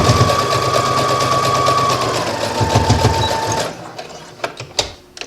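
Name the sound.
sewing machine basting a pocket onto the seam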